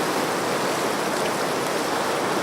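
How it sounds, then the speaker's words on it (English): Ocean surf at Naalehu, Hawaii, a steady broadband wash of waves rolling continuously without breaks, loud and close with no voices. "There's the ocean behind me."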